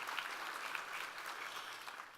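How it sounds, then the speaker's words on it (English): An audience applauds the Joint Forces Honor Guard at the 2019 Bay County Chamber dinner, with steady, dense clapping from a crowd filling the room for a couple of seconds. "Would you give them another round of applause for time that they've taken out tonight?"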